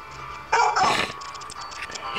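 A white bull terrier gives a single sharp, close bark indoors, followed by a few fainter yips and quiet room sounds.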